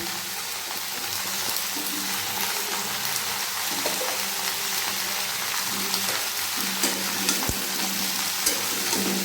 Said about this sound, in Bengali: কাঁচা লঙ্কাগুলো দিয়ে দিচ্ছি, টমেটোগুলো দিয়ে দিচ্ছি। এবার কি করব, ভালো করে এটাকে কষতে থাকবো।